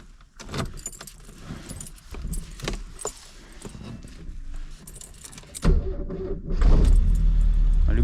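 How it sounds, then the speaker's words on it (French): A 1982 Porsche 924 is started: jangling keys and clicks come first, then the old starter motor cranks and the engine catches into a loud, steady running rumble. "J'adore ces vieux bruits de démarreurs."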